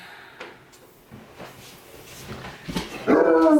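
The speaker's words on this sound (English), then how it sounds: "my dog is really trying to get out again." A dog whimpers and yips while trying to get out, with faint scratching and bumping, building to a sharp, louder bark near the end.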